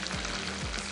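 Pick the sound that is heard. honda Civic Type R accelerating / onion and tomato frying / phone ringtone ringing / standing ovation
onion and tomato frying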